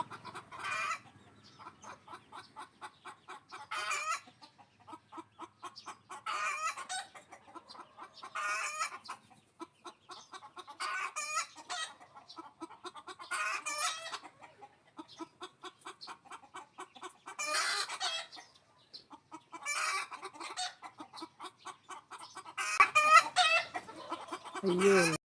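A laying hen clucks repeatedly in loud, rhythmic bursts before laying an egg, the calls coming in clusters with short pauses and growing more intense toward the end.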